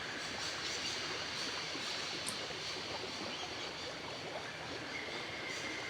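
Noisy train rumbling on in a constant, loud roar with a steady rattling wash and faint squeals, unbroken from start to finish.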